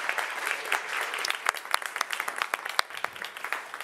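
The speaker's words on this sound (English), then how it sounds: "let's give her another round of applause" A conference audience applauds steadily after a presentation, a dense wash of many hands clapping with a few sharper claps standing out, sustained throughout.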